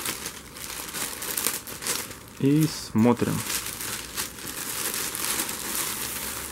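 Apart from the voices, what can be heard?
opening a plastic package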